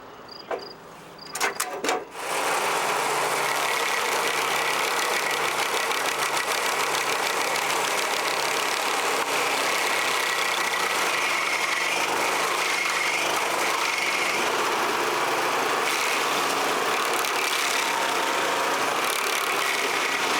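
A stump grinder's engine runs at a steady, loud drone close by after a few sharp knocks and clatters at the start, continuing without pause.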